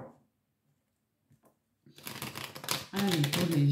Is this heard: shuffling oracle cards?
yes